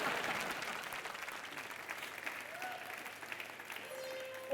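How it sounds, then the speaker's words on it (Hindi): A studio audience on an Indian comedy entertainment show claps steadily in a dense, sustained round of applause that fills the room, with faint voices underneath. "तुम ताली दो मुझे"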